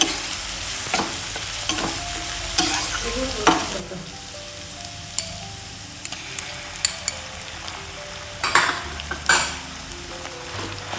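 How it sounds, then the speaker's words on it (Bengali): Sizzling oil crackles steadily as onions fry while a spatula scrapes and clinks against the pan in irregular stirring strokes, close up, with no talking. "পেঁয়াজটা একটু ভাজা ভাজা হয়ে গেছে।"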